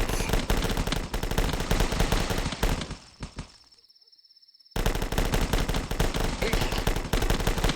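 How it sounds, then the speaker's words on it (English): Rapid automatic gunfire in The Last Stand, loud and continuous bursts that cut out abruptly for about a second of near silence before the dense shooting resumes. "Just shoot. Don't need to see the enemies to kill the enemies."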